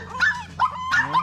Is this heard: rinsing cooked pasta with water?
no